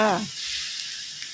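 Pork stir-fries in a pan with a little stock poured in, producing a bright, continuous hiss and sizzle, with a brief voice at the very start.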